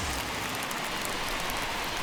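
Steady rain hisses across a ballpark in MLB The Show 21, a dense, even wash of falling drops that holds unbroken throughout with no voices over it.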